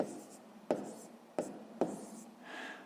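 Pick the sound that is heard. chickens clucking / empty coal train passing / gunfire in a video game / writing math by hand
writing math by hand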